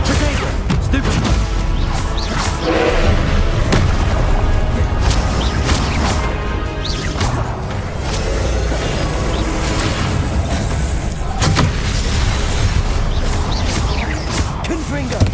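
Spell blasts in the Hogwarts Legacy video game, including Confringo and Expelliarmus, come as loud dense booms, crashes and whooshes packed together without pause, with a voice calling out over the combat.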